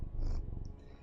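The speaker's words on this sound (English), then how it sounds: "if you can hear him purring" A pet cat purring up close during a break from a game stream, a steady low rumble that holds loudly through the first half and then eases off.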